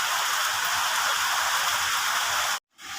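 Steady hiss of rain falling outside an open doorway, dense and close, cut off abruptly near the end by a brief silence before it returns.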